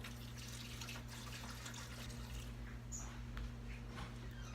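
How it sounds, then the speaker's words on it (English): Distilled water runs steadily into a tray of surgical instruments set in a sink, a quiet continuous trickle beneath a low electrical hum, with no one speaking. "I'll be filling it up with distilled water."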